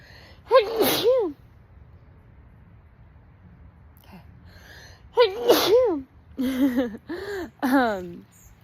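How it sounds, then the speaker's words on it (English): Two sneezes, the first a sharp single burst, the second followed by a few short gasping, pitched vocal sounds, close and loud against quiet room noise. "I'm gonna sneeze."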